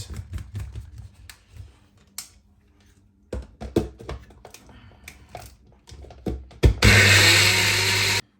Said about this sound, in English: I'm going to start the blending process